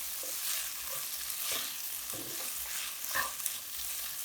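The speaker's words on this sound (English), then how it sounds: "need to give it a little POV stir. and get all that cheese melted and integrated there." Melting cheese being stirred through veggie taco filling in a hot pan, with a steady close sizzle and soft scraping strokes of the spoon repeating every second or so, no voices.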